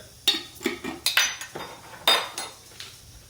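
Sesame seeds go into a hot pan over medium heat and are moved around, giving a series of quick metallic scrapes and clinks from a utensil on the pan, close and separate, with no talking.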